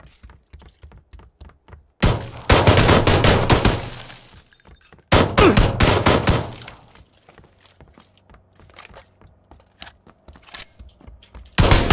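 Rapid AK assault rifle gunfire in a video game, bursts of loud automatic fire from about 2 to 4 and 5 to 7 seconds, with scattered single shots and clatter in between.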